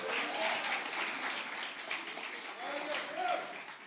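Applause from a lecture audience, a moderate steady patter of clapping heard at some distance with crowd noise and voices underneath.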